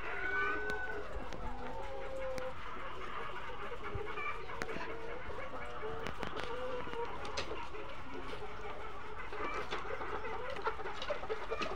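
Chickens on a poultry farm cluck and chatter continuously, many birds overlapping at moderate distance, with scattered knocks and rattles from handling.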